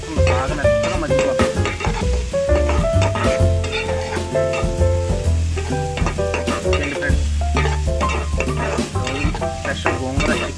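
Gongura leaf pieces sautéing in hot oil for a gongura chicken dish, a loud steady sizzle with repeated clatter of a spoon stirring against the pan and no talking.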